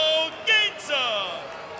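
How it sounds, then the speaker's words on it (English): Boxing crowd at a Las Vegas team boxing playoff reacting with loud disapproval to a split decision, a brief swelling roar of many voices that rises and falls across the clip. "you can hear the crowd in disagreement"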